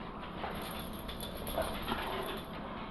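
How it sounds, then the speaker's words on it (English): A pet dog whimpers and snuffles faintly in a home kitchen while beef goulash cooks, soft whines sitting low over a constant background hiss. "that's my dog. She smells food,"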